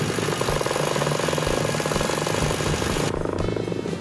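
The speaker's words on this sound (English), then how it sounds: "It's my new electric winch for my sailboat." A cordless drill drives an electric winch on a sailboat, giving a loud, steady motor whine with a rough, buzzing drone that runs continuously, easing slightly in tone near the end.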